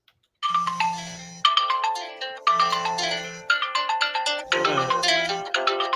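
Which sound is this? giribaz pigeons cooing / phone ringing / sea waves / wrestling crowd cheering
phone ringing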